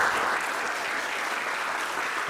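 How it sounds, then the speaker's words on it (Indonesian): An audience at a student training-centre meet and greet applauds the coaches of medal-winning Indonesian students, a fairly soft, steady patter of many hands lasting a couple of seconds. "tepuk tangan untuk para pelatih"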